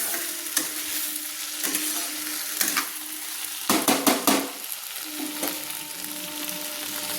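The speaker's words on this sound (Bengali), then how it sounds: "তেল, আলু, টমেটো, পেঁয়াজের সঙ্গে আমি সুন্দর করে তেলের সঙ্গে এই মশলাটা কষিয়ে নিচ্ছি" Mustard paste masala sautéing in oil with potato, tomato and onion for a spicy mourola fish curry, a constant sizzle broken by repeated spatula scrapes and a quick cluster of stirring knocks midway.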